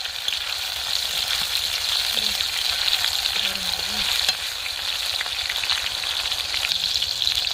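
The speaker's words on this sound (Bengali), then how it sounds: "এর মধ্যে টমেটো কুচি দিয়ে দিচ্ছি তেলটা খুব গরম আছে" Chopped tomato frying in very hot oil, a loud, dense, continuous sizzle and crackle close up, with faint stirring underneath and no talking.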